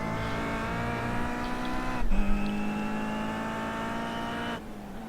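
Race car engine in the iRacing video game during BTCC 2013 qualifying at Okayama, a loud steady high-pitched engine whine that shifts up through the gears as the car leaves a corner onto the straight, with no talk.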